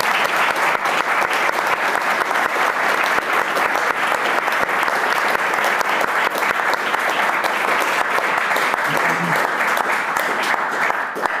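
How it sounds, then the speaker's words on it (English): An audience at a panel discussion on general election preparation breaks into sustained applause, dense steady clapping filling the room throughout at an even, loud level. "giving a massive round of applause to our excellent panellists"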